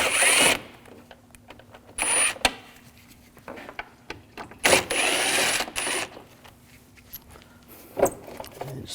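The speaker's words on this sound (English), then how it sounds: "take these screws out" A T20 socket removing screws from the air intake of a 2007–2013 BMW 328i 3.0L L6 produces a handful of sharp metallic bursts and clicks, spaced irregularly between quieter handling noises.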